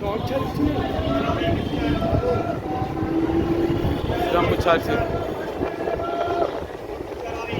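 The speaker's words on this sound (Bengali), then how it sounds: "আমাদের ট্রেন শ্রীরামপুর ছাড়ছে" A passenger train pulls out of Serampore station on the Tarakeswar to Dakshineswar route, a steady loud rumble of wheels and carriages heard from on board, with a faint horn tone and background voices.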